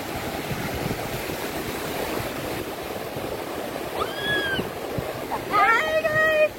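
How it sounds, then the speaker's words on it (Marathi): Waves roll onto a Konkan beach in a continuous rushing wash, with voices and cries of people enjoying themselves rising over it toward the end. "खूप सुंदर असा समुद्र"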